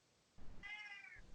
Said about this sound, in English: That's my cat agreeing.